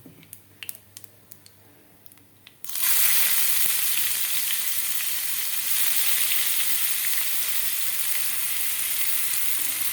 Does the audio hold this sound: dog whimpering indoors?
no